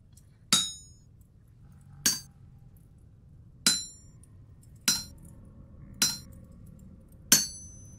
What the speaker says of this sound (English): be here hammering away for a little bit